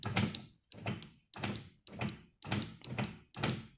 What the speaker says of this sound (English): You'll notice this door lock, the one I did put in,